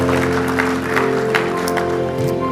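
A church congregation claps in praise of Jesus' love, a steady mass of applause layered over sustained keyboard or organ chords that hold throughout.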